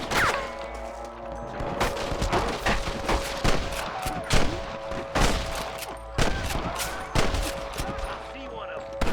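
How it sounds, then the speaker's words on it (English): Rapid bursts of gunfire crack repeatedly in Red Dead Redemption on PC, volleys of many shots close together, with voices talking underneath amid the shooting. "I can hear more gunshots"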